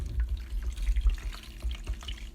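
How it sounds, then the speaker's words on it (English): Cold tap water runs into a kitchen sink, rinsing freshly churned homemade butter to wash off the buttermilk, giving a steady low splashing flow with small gurgles throughout. "I'm going to rinse this butter one more time with that cold"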